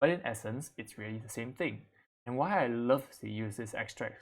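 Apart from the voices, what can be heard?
No everyday noise stands out behind the speech.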